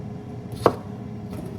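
A knife cuts once through a slightly wrinkly baby cucumber, giving one short, crisp chop close by over a quiet kitchen background.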